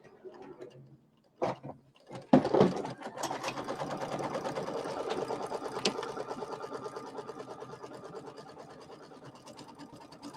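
Embroidery machine stitching a fabric placement line on a quilt block, a fast steady mechanical chatter of needle strokes after a few sharp clicks at the start, running continuously and close by.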